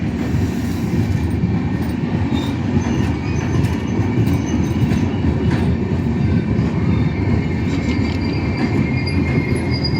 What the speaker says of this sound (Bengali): দেখুন কত বড় ট্রেন বিশাল বড় ট্রেন